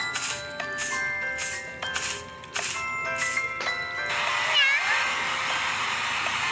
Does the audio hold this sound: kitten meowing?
yes